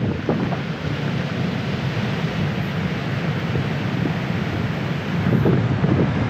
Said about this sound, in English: the wind is coming up in gusts and it's gonna blow us all over the place.